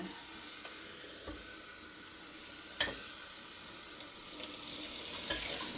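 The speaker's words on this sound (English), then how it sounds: "I better rinse out this cash pot though, make sure it's really clean." Tap water runs steadily while a dusty cachepot is rinsed out at a sink, a continuous hissing splash with a few brief clunks of the pot.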